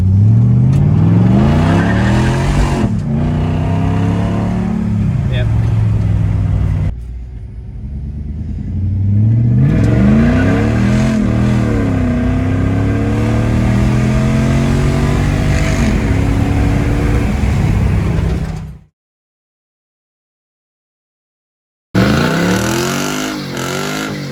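Mercedes CLK55 AMG accelerating hard with its rear tires spinning for lack of grip, engine roaring loud and close with rising, shifting revs and tire squeal over about nineteen seconds, then a brief silence before the engine noise returns.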